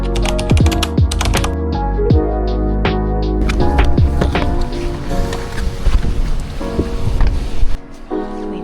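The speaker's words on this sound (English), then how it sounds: "but it's actually raining so much." Heavy rain drums hard and fast on a car's roof and windshield, heard from inside the vehicle as a dense, continuous patter of sharp drops.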